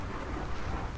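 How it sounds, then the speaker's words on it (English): Rain falls in the game ARK as a steady, dense hiss with a low rumble underneath, constant and fairly quiet throughout, with no voices. "It's raining."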